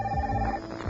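Telephone ringing in a Bell Atlantic Caller ID Deluxe TV commercial, a short electronic ring tone heard once, fairly loud and close, with background music underneath.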